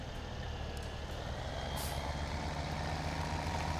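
A pickup truck in Farming Simulator 17 rolls through a narrow farm gate, a steady low engine drone that stays even throughout, with no voices.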